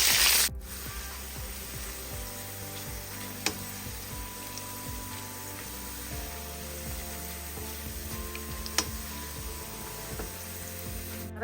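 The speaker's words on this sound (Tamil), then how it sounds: "கடுகு, கருவேப்பிலை, காஞ்ச மிளகா, பூண்டு போட்டு தாளிக்கிறேன்." Steady oily sizzling and crackling of mustard seeds, curry leaves, dried red chillies and garlic frying in a pan of oil, continuous and close, with a couple of sharp clicks and faint background music.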